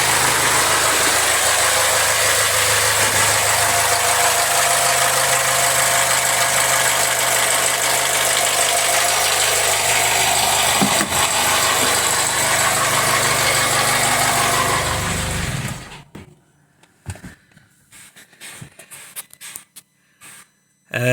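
Jaguar F-Pace with the 204DTD diesel engine idling roughly with a loose vacuum pipe, a steady loud vibrating drone from worn engine mounts for about fifteen seconds before cutting off to near silence with faint knocks.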